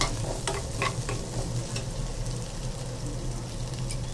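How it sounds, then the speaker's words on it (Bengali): Chopped onions and tricolour capsicum frying in soybean oil hiss steadily in a pan while a spatula stirs them, a few light scraping taps early on and then an even, close sizzle. "হালকা একটু নাড়াচাড়া দিয়ে দিচ্ছি।"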